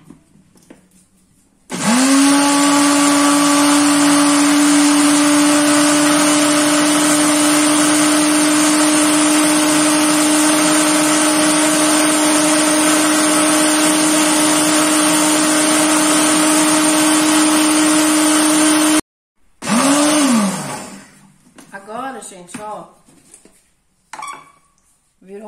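A countertop blender runs loud and steady for about seventeen seconds, grinding lemon pepper seasoning together with other ingredients. Its motor whine holds constant until it cuts off abruptly, then restarts for a brief final pulse that winds down.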